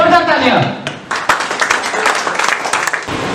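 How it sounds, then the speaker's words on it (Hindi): Audience clapping at a motivational success seminar, starting after a voice speaks briefly, then scattered, close hand claps of moderate loudness. "जोरदार तालियां"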